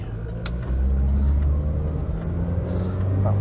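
A car with a 3-speed automatic transmission pulls away and accelerates, a low engine rumble swelling as it gains speed, heard from inside the cabin with no talking.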